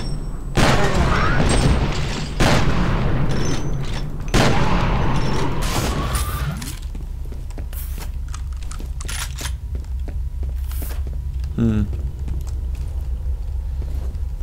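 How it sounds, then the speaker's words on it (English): A repeating cannon in the shooter game FEAR fires three heavy, booming blasts a couple of seconds apart, then quieter clicks and distant thumps follow, with a voice briefly audible. "Oh, a repeating cannon."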